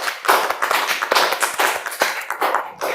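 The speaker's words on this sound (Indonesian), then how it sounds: "Tepuk tangan dong, tepuk tangan dong." An audience claps along with a musician's talk, producing a close, steady run of sharp hand claps in a loose rhythm over three seconds.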